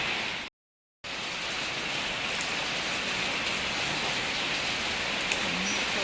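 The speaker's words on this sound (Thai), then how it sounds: "บรรยากาศดีดี ฝนตกนะจ้า" Rain falls steadily at a Thai Buddhist temple, giving an even, close hiss of drops that barely changes apart from one short silent break near the start.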